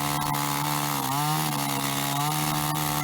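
A poorly maintained chainsaw cuts into a large wooden pillar using a back-cut, its engine droning steadily and loudly throughout with a slight dip in pitch as it bites, no voices over it.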